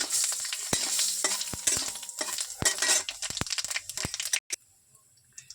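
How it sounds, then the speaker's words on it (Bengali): Cumin seeds and dried red chillies frying in hot oil in a pan, a steady crackling sizzle with stirring scrapes and a few utensil knocks, close and fairly loud, cutting off near the end. "এবার আমি জিরে আর একটু শুকনো লঙ্কা ফোড়নে দেবো, দিয়ে দিলাম। একটু ভাজা হোক।"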